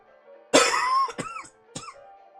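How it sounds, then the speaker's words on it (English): A person who is ill coughs up close, one long harsh cough followed by two shorter hacking bursts in quick succession. "I'm in the coughing"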